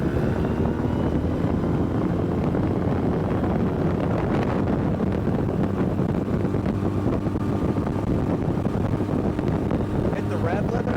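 An Alumacraft boat's outboard engine runs hard at the rev limiter on open water, a steady loud roar with heavy wind buffeting across the microphone throughout and a voice talking over it.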